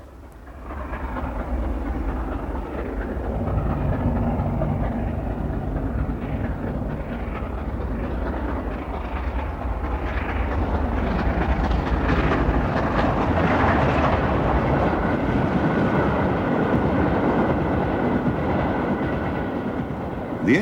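The LNER streamlined steam locomotive Mallard runs on the main line, producing a continuous heavy rumble and rolling clatter that swells louder midway and stays strong to the end, with no one speaking.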